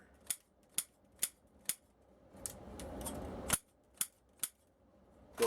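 EDC scissors snip through 24 gauge brass wire in a series of about nine sharp, crisp clicks, evenly spaced and close, over faint background noise with no talk.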